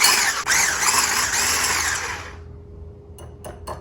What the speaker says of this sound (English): We will be starting off by creaming the butter. Make sure it's room temperature. I'm going to cream it until it's smooth.